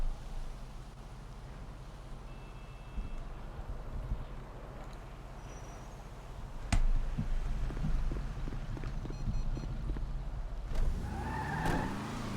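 A car in GTA NoPixel drives with a steady low engine rumble, tires occasionally squealing, and a sharp impact partway through before the motor surges louder.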